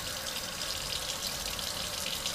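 Cold tap water runs steadily over sprouts in a sprouting jar, a constant hiss and splash of rinsing with no voices.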